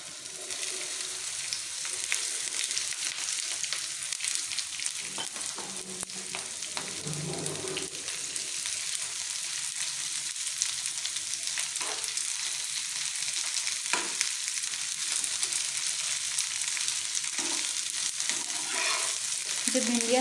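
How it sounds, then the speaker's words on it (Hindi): Okra (bhindi) fries in a pan with a steady, loud sizzle that fills the whole stretch, broken by occasional soft stirring clinks and scrapes. "अब हम फ्राई पैन में भिंडियों को फ्राई कर लेंगे।"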